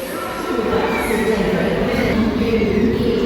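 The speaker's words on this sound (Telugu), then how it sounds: "ఇదిగోండి మన train one two six zero four" A train rumbles steadily at Cherlapalli railway station, a loud, continuous low roar near the platform, with a voice talking over it.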